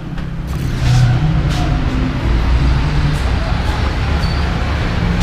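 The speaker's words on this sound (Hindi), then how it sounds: "मैं सबसे पहले जाके आपको इंजन की साउंड सुनाता हूँ" A 2017 Yamaha YBR 125 motorcycle engine runs steadily at close range, a continuous low rumble with a brief rise in revs near the start, filling the whole stretch without talk.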